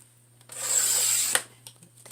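A blade or trimmer drags along a sheet of patterned scrapbook paper as a holiday card is cut down. It makes one soft rasping stroke of about a second, followed by a few faint ticks, in a quiet room.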